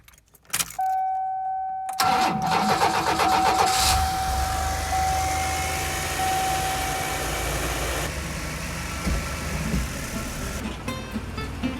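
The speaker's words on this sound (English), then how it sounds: "We'll start her up, go for a drive, and see if it works." A Chevy Astro van starts up after a moment of quiet and a jingle of keys: the starter cranks briefly, then the engine catches and settles into a steady close idle with a faint whine.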